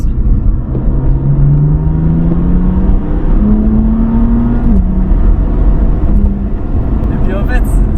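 A BMW M4 turbo engine with the stock exhaust line pulls hard from inside the car, a rising drone climbing in pitch, dropping at a shift and climbing again as the exhaust valves open.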